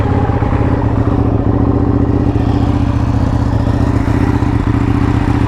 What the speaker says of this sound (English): let's get a nice little cold start.